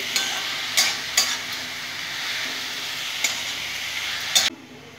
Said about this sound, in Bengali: সুন্দর করে ভাজা ভাজা করে নেব রসুনের সাথে, কাঁচা লঙ্কার সাথে।